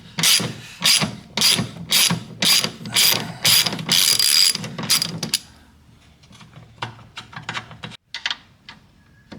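On a Mitsubishi Evo X subframe, a ratchet wrench backs off 14 mm nuts with loud, close bursts of rapid clicking in regular strokes, then the ratcheting turns sparse and quieter as the work slows, with nobody talking.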